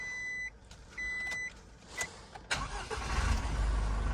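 Ignition chimes from a 2022 Isuzu truck sound as the key turns: two sustained electronic tones, a few clicks, then the starter cranks and the diesel engine catches into a rising rumble, close and loud, with no talking.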